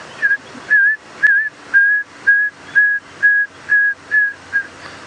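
A person whistles an imitation of a red-crested korhaan call: ten short, high, level whistled notes in an even rhythm, each preceded by a faint click, close to the listener.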